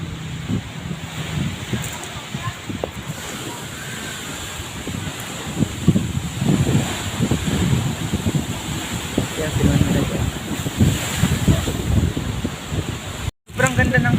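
Strong wind buffets the microphone in a continuous roar with rumbling gusts, sea-like surf underneath, and a brief dropout near the end.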